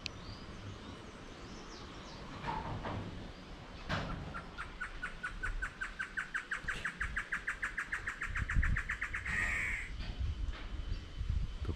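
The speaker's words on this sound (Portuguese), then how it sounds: "Passarinho do canto engraçado." A bird with an odd, comical song sings in a tree-filled country property, letting out a long run of rapid, evenly spaced calls that speed up into a steady rattle, fairly close and loud over a low background rumble.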